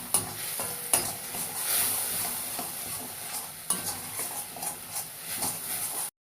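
Spice paste for a Bengali parshe fish kalia sizzles and fries steadily over low heat after turmeric and salt go in, with a spatula stirring and scraping through it in repeated strokes, close and continuous.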